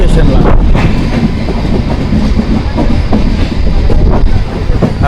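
Passenger train on the Diva–Ratnagiri route pulling into a station at night, loud and close, with steady rumbling and rhythmic clickety-clack of wheels over rail joints throughout.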